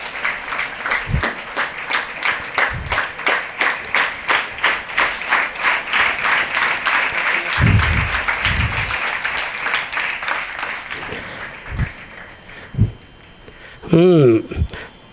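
At a scholarship ceremony, an audience claps for a tenth-grade student receiving a full scholarship, with rhythmic, unison clapping that holds for several seconds before thinning out, followed by a speaking voice.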